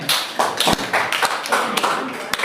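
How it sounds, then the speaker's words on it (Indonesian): A classroom group of students claps for a fellow student team, giving scattered, uneven hand claps and taps close by, with some voices mixed in under the clapping. "Tepuk tangan buat kelompoknya Alsa."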